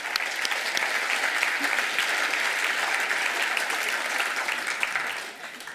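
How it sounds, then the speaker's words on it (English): An audience at a climate change talk breaks into sustained, even applause, a steady wash of many hands clapping that tapers slightly at the close. "I think that deserves a round of applause."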